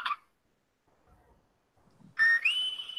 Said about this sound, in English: No, that's a whistle.